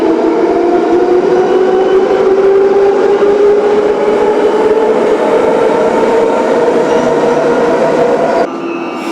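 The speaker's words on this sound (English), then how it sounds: "It's an old epic Soviet metro system with a nice selection of trains going from the old Soviet metro trains" A Warsaw metro subway train runs with a loud, steady rumble and a rising electric motor whine as it gathers speed, with a sudden change near the end.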